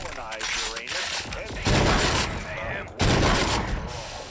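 Bursts of rapid gunfire and explosive blasts erupt in the video game Agents of Mayhem, loud and dense, with a voice speaking over the opening second.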